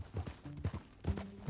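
Horse hooves clip-clop in Red Dead Redemption 2, a few close, uneven thuds of a walking horse across a brief stretch, heard alone.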